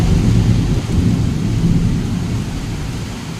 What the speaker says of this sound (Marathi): एवढा जोराचा पाऊस सुरू आहे.